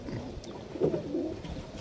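Soft, low cooing from desi high flyer pigeons at a pigeon sale in Nabadwip, a short throaty burst rising over steady background noise.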